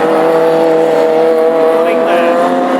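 Classic hot rod race cars lapping at Birmingham, one sounding slightly sick, make a loud, sustained engine drone with steady tones that persists throughout, overlaid by a commentator speaking.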